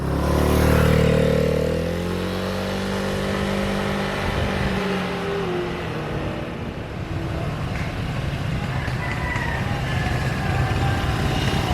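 A motorcycle rides toward a waterfall, the engine revving and rising in pitch at first, then settling into a steady rumble mixed with heavy wind noise, close and continuous.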